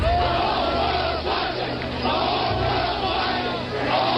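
A crowd of protesters at the 1968 Democratic National Convention in Chicago chants in unison, a loud and dense roar of many voices with rhythmic swells, heard from within the throng.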